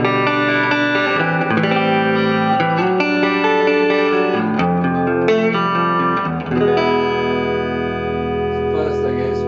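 An electric guitar played through a repaired 1965 Deluxe amplifier with fresh valves and the reverb turned fully up, sustained chords ringing loud and washy with long echoing tails.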